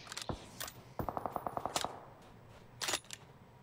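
Gunfire in a shooter video game, with a few separate sharp shots followed by a quick burst of rapid repeated shots near the middle and a louder blast near the end, all moderately loud with no talk.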